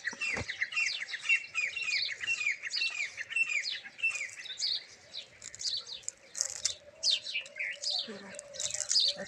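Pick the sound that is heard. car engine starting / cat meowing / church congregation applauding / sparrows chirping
sparrows chirping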